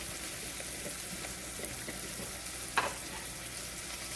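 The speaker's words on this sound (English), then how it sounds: "kind of keep stirring it so you don't burn the garlic too" Garlic and onions fry in a pan with a steady broadband sizzle, broken by one short scrape of the spoon as they are stirred.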